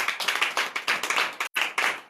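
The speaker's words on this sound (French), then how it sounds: "Donnez l'acclamation à Jésus." Rapid, steady hand clapping from a group at a church morning prayer service in Comè, Benin, rhythmic and bright, with one brief pause before the claps resume.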